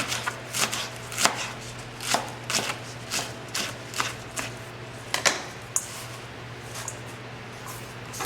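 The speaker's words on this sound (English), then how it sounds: "I'm actually just going to be chopping off the top and also the bottom" Knife chopping through callaloo stems on a cutting board while preparing a West Indian Sunday lunch dish; a steady series of close, crisp chops, roughly one per half second, with no talking.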